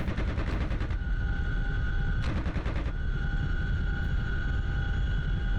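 Helicopter door gunner machine gun fire in DCS World, two short rapid bursts of automatic shots over the constant loud drone and whine of the helicopter's rotors and engine.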